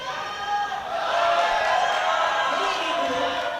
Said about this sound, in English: The crowd is cheering for him.